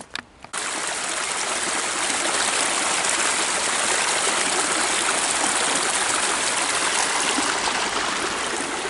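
A creek flows through natural forest at Peavy Arboretum near Corvallis, Oregon, a loud, close, continuous rushing babble that starts abruptly after a brief quiet moment with a couple of faint knocks, then holds steady with no talking.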